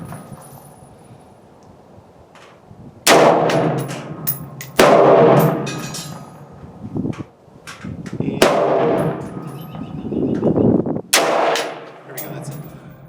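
Remington .223 55-grain rifle shots fired at a 25-yard range, several sharp loud cracks spaced a second or more apart, each with a ringing tail, over quiet background.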